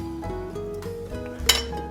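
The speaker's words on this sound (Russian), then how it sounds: "здесь я взял кастрюлю" A cooking pot handled in a home kitchen while preparing a Japanese rice dish with chicken and mushroom soup, giving a few clinks and knocks of metal cookware close by, with one sharper clank near the end.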